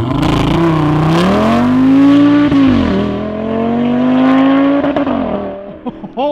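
An Audi RS3 engine in a Mk7 Volkswagen Golf R with aftermarket downpipe and midpipe revs hard with a deep, throaty exhaust note, rising and falling in pitch, loud and close, then a few short blips.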